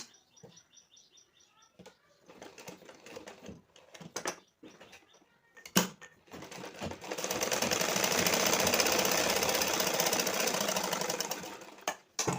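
A sewing machine stitching a blouse, with a few short bursts and clicks at first, then a long, steady, loud run of rapid stitching that stops abruptly.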